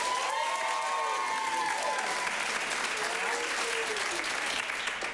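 An audience claps for a film at a live showdown event, steady applause filling the room with some cheering, while a voice speaks over it.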